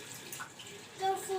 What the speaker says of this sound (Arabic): خلاص كفايه كده اشطفوا. يلا اعملوا بالميه بقى